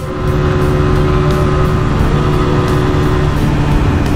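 A 125cc motorcycle engine drones steadily and loudly while being ridden, with a constant hum and wind rush and no voices.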